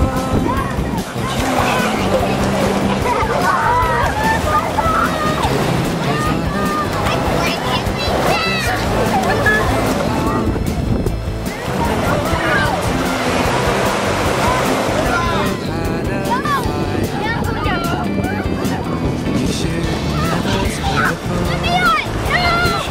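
Water gushes and sloshes loudly and continuously at a creek near the ocean in Florida, with children and adults talking and calling out over the rushing flow.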